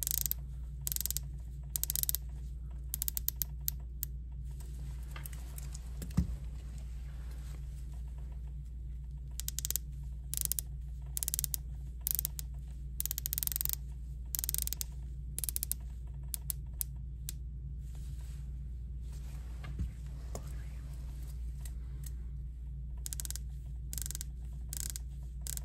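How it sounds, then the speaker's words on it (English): Tudor Pelagos dive watch bezels being turned by hand, giving bursts of crisp, tiny ratcheting clicks in quick runs, very close but quiet, with no talking. "I'll give you bezel action on all three. Really good crisp, good sound."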